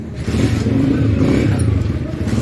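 A new motorcycle's engine revs steadily and loudly up close, a low throbbing roar with slight clatter running unbroken for a couple of seconds, no voices over it.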